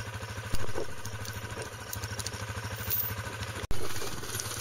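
A four-wheeler utility vehicle idles and runs steadily nearby in an open field, its engine a rhythmic, clattering chug at a fairly even level with a couple of sudden bumps.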